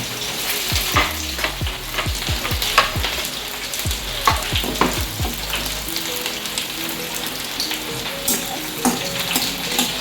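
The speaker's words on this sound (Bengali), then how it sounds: "পেঁয়াজ কুচি দিয়ে দিয়েছে" Chopped onion fries in oil with bay leaf and whole spices, a loud, crackling sizzle that pops and spatters steadily, with brief stirring sounds near the start.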